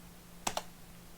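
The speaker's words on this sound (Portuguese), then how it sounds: "Faço aqui um Enter." A single press of the Enter key on a computer keyboard, two sharp close clicks in quick succession as the key goes down and springs back, in an otherwise quiet room.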